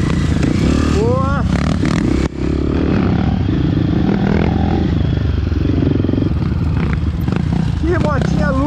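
A 250F trail motorcycle engine revs loud and steady on a dirt trail, with a continuous close roar and people talking over it.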